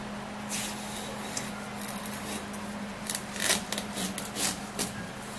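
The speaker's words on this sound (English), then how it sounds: "we're gonna cut the watermelon" A knife works through a ripe watermelon, with a series of short, crisp slicing and crunching bursts that grow busier toward the end. The cutting is close by against a faint steady hum, and nobody speaks.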